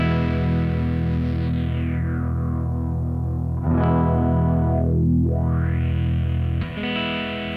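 A guitar plays through a Chase Bliss Condor pedal with its low-pass filter sweeping. Sustained distorted chords hold steady while the filter swoops down and back up in pronounced arcs, with a sharp restrike midway and another near the end.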